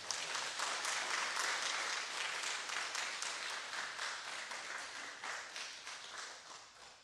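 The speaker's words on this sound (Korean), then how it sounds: "다시 한번 큰 박수 부탁드리겠습니다." Church audience applauding at a worship service after a presentation, steady, full clapping from many hands that gradually thins and softens toward the end.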